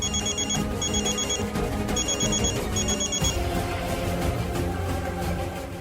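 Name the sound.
telephone ringing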